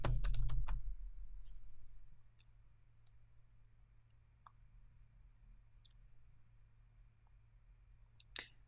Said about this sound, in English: Type in My Studio Smart Collections.